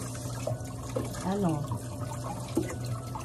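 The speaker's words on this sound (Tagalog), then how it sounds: "Hugasan mo muna." Peeled cassava being washed under running tap water, with splashing and dripping over a steady flow, close by, while someone talks over it.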